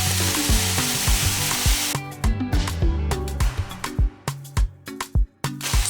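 Crushed garlic, about a tablespoon, hits a pan on high heat and sizzles with a steady bright hiss. It is loudest in the first couple of seconds, then breaks into shorter bursts, all under prominent rhythmic background music.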